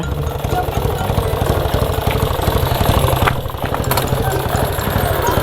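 A Honda Dream motorcycle with a loose, detached exhaust pipe revs hard and steadily during a wheelie, its close, loud, rattling engine note running throughout, with a couple of brief sharp clicks and people shouting over it.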